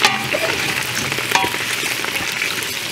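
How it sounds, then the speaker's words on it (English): Vegetables fry in hot olive oil in a large pan, a steady close sizzle with light stirring clatter and no talking. "Once your oil is hot, add in your vegetables."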